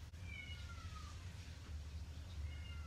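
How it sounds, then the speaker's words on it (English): Newborn kitten meowing during a cat's birth at home, thin high cries repeating a few times, faint over a steady low background hum, with no talk. "You guys hear that meowing?"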